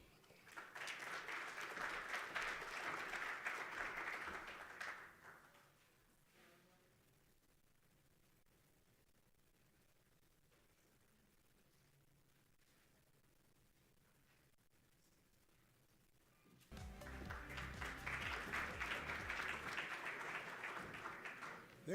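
Warm conference applause at a national green hydrogen conference in Namibia, a dense burst of clapping for about five seconds, a quiet gap with faint room sound, then a second loud wave of applause.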